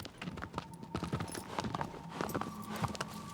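Horse hooves clip-clop at a steady walking rhythm in the video game Shadow of the Colossus, close and fairly loud over faint game ambience.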